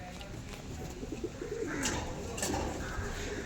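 Pigeons cooing on a house rooftop, soft repeated low coos over a steady outdoor background hum, close by and moderately quiet.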